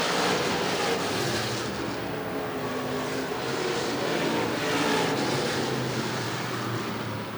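IMCA stock cars race at Beatrice Speedway, a dense, steady engine roar from a pack of cars that swells slightly as they pass, loud and continuous with no talk over it.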